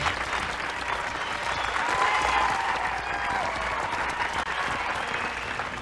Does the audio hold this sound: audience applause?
yes